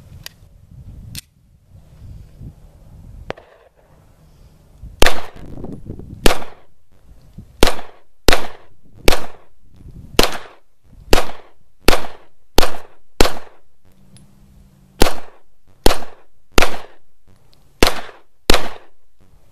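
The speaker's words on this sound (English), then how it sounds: "And now it's time for our second shoot with the Beretta 92FS." Beretta 92FS pistol fired at a shooting range: about eighteen sharp, loud, close shots, sparse at first and then in quick, fairly regular strings, with brief quiet gaps between groups.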